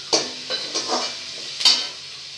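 Onion and cabbage for cabbage manchurian sizzle in a pan as a spatula scrapes and stirs in a few quick, close strokes, with a steady hiss of frying underneath.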